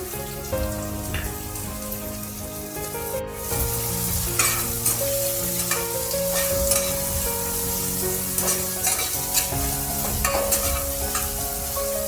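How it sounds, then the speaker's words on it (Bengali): Chopped onion sizzles in mustard oil in a wok, with a continuous bright hiss and crackle alongside steady background music. "তেলের মধ্যে একটা বড় সাইজের পেঁয়াজ কেটে এইভাবে এটা কড়ার মধ্যে দিয়ে দিলাম কড়াইতে।"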